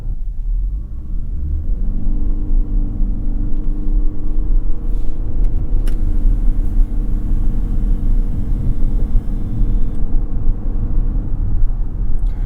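A 2022 Lexus NX's 2.5-liter engine spools up with a steady, loud, low rumble that holds close and continuous throughout, with no voices over it.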